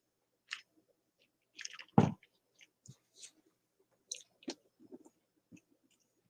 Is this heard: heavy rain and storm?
no